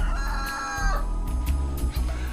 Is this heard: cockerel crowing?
yes